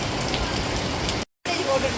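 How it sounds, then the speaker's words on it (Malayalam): Heavy rain pours steadily outside a cinema screen building, a dense, loud wash of hiss that breaks off briefly for a moment of silence before resuming. "നല്ല മഴയാണ്"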